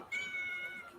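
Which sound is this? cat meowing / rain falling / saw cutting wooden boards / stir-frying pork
cat meowing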